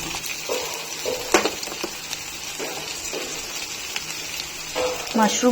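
Corn and mushroom fry in a pan with a steady, soft sizzle and occasional stirring scrapes, close by and continuous.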